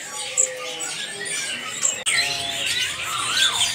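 A straw-headed bulbul (cucak rowo) calls amid a busy bird market, its rich whistled phrases mixing with dense chirps and squawks from many other caged birds, with faint voices in the background.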